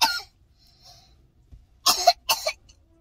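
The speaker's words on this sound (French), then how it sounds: "Il tousse vraiment au point d'en vomir." Young child coughing hard from a bad cough, one cough at the start, then two harsh close bursts in quick succession near the end, set against a quiet background.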